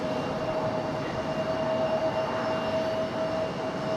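A Boeing 737 or 757 airliner at Raleigh Durham airport makes a steady, moderately distant jet roar with a thin sustained whine. The sound is continuous and even throughout.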